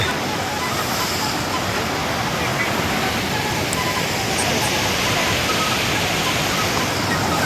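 A broad, steady rush of river water flowing beneath a high bridge near a temple in Palampur, continuous and fairly loud throughout with no break.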